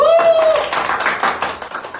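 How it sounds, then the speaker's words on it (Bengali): A burst of applause from a group, dense overlapping claps that swell and then thin out over a couple of seconds. "ওকে তালি দিন।"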